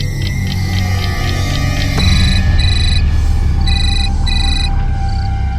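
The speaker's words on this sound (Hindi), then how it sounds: "सीमा को फोन करती हूँ।" A telephone rings in repeated electronic trill bursts, several rings in a row, over a low rumbling background with no talking.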